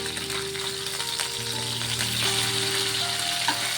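Small sea moorola fish frying in hot mustard oil in a pan, giving a steady, close crackling sizzle that holds through the clip with no talking.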